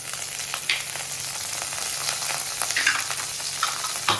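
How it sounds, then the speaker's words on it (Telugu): Mustard seeds, green chillies and curry leaves sputter in hot oil for a tadka, giving a steady close sizzle with sharp crackling pops scattered throughout. "పోపు ఫ్రై అవ్వనివ్వాలండి ఆవాలు చిటపట్ట అనేటప్పుడు"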